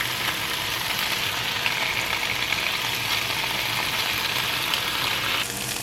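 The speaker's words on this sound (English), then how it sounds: "so now I'm just going to flip them all over and let them fry on the other side." Ham and cheese roll-ups fry in a pan with a steady, dense sizzle that stays even and close throughout, with no voices.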